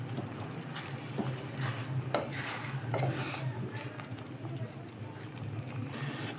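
A spoon stirs condensed milk into a pot of Lahori chana, giving soft scraping and clinking strokes against the cookware at close range, with a low background hum.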